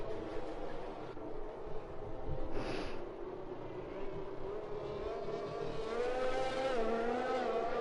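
Safety car in a racing video game sweeping past with a steady engine drone, a rising whine building toward the end, over a constant bed of race-car noise.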